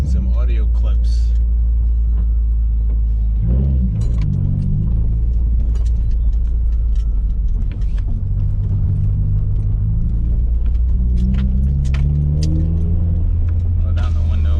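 A car fitted with an ETS Extreme catback exhaust drives on a cold engine, its deep steady exhaust drone and rumble filling the cabin through a partly open window, with a few revving swells and brief clicks and rattles.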